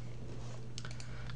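A few quick, soft clicks of a computer keyboard as a web address is typed, faint and close over a steady low electrical hum.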